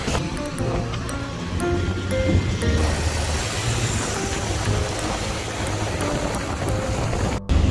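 A Thai traffic jam rumbles on without a break, car and engine noise heavy and broad, with a washing, surf-like roar throughout.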